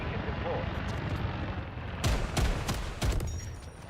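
Rocket pods fire in the Delta Force shooter, a quick series of sharp booming blasts over a dense rumbling battlefield roar, loud and close, with a voice talking underneath.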